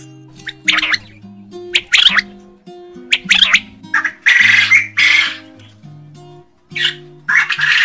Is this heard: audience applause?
no